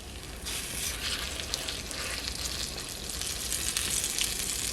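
Funnel cake batter frying in old oil on a Dash mini griddle, a continuous crackling sizzle close up that swells slightly toward the end, with no talking.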